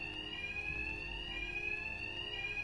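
In Batman: Arkham Knight, an electronic alarm rings continuously with a steady high piercing tone over a low rumble, holding at an even level without pause.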